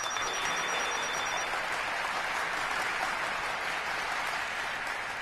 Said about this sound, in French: Je crois que nous pouvons tous applaudir très chaleureusement les chœurs de l'armée Vlok